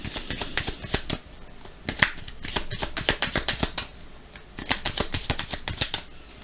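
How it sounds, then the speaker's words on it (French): Oracle cards are shuffled for a card reading, with quick bursts of crisp riffling and flicking close by, pausing briefly between runs, and no talking. "troisième tirage, cette fois-ci, on va voir avec l'oracle du Béline ce qu'on peut nous dire. 4 cartes, là aussi"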